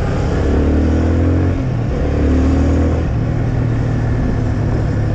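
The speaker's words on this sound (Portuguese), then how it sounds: "Acelera essa moto aí" A loud motorcycle engine roars and rumbles up close, with revs rising and falling across several seconds, on a street in Mooca, São Paulo.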